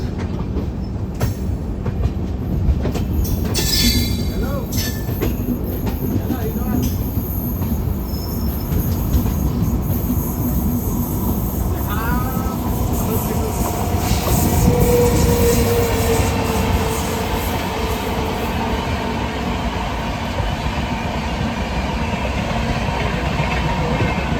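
Indian Railways Hemkunt Express passing alongside the New Delhi–Dehradun Jan Shatabdi Express, a steady loud rumble of train wheels and carriages with brief squeals and rattles throughout, no talk.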